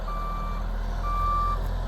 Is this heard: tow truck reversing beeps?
yes